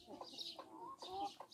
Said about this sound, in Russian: Вот данной породы серебряный виандот.